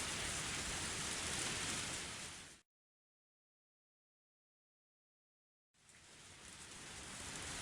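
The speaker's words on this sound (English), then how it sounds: "I felt the raindrops hit my face, and gazed upon the sky for a while" Steady rain pours in a scene from the visual novel Higurashi: Matsuribayashi, a dense, even hiss that cuts to complete silence for about three seconds and then returns, building slightly louder.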